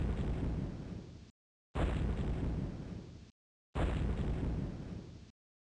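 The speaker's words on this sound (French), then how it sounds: "c'est pas là, là-haut qu'il faut mettre la bombe. C'est en dessous. Pour avoir la réaction en chaîne" Three separate bomb explosions from the Lode Runner video game, each a loud rumbling burst lasting over a second that fades out, followed by a moment of silence before the next one.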